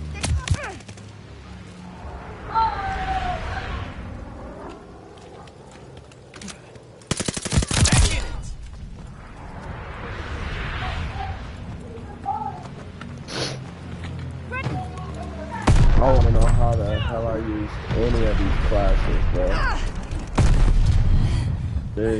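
Friendly bombing run in Call of Duty Vanguard: heavy booms and bursts of gunfire erupt in loud waves over a busy battlefield, with a voice talking over the din.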